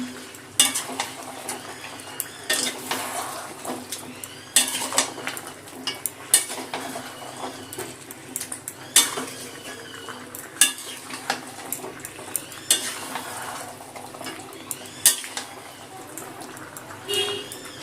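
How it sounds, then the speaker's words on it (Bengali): Mutton and potatoes are stir-fried with spice-paste water in a pan, with a steady sizzle under frequent rhythmic clanks and scrapes of a metal spatula, close up and with no talking, for about eighteen seconds. "সব একসাথে ভালো করে একটু কষিয়ে ফুটিয়ে নেব।"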